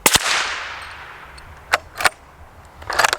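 A suppressed Ruger American Ranch rifle in 300 Blackout fires at a steel spinner target outdoors, giving a sharp crack with a decaying ring, followed by several scattered metallic impacts and clanks.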